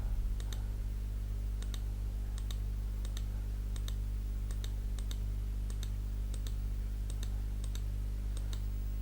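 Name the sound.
computer mouse clicking in Photoshop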